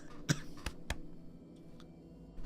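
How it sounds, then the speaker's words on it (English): Two or three sharp coughs from one person come close and fairly quiet within a few seconds, followed by softer throat sounds against a low hum. "Excuse me while I cough up a lung."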